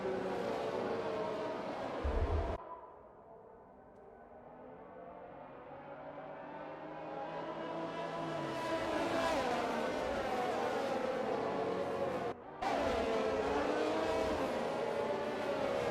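Formula 1 race cars in the video game F1 2021 at the Australian GP, engines rising and falling as cars pass and accelerate behind a safety car, with commentary-style talk running over the mid-level engine drone.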